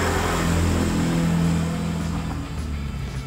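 A petrol generator set for a shop runs close by with a steady, low, humming engine drone that stays loud and even, with no voices over it.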